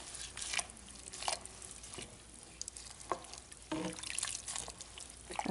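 Kale being stirred into a pot of Zuppa Toscana soup, giving a steady wet sizzle and liquid churning with a few sharper scraping swishes, fairly close and continuous, no voices.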